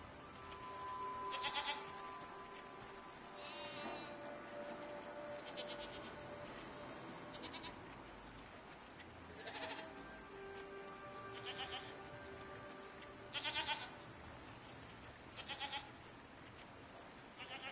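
Goat-like creatures in the video game Season: A Letter to the Future bleat in short, separate calls spread across the stretch, close and clear, over a soft steady ambient bed with no talking.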